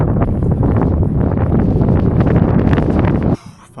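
Strong wind buffets the microphone while hiking on an Arizona trail, a loud continuous roaring rumble that drops away abruptly near the end as shelter is reached.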